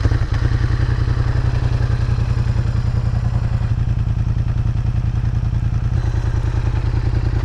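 A Yamaha MT-07 motorcycle with a new aftermarket exhaust idles loud and close, its engine throbbing in a steady, fast, lumpy pulse with no voices.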